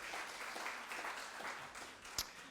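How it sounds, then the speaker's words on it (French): A French audience applauds a first-prize winner at an award ceremony, a brief, fairly faint wash of steady clapping with one sharper clap near the end. "Allez, on l'applaudit."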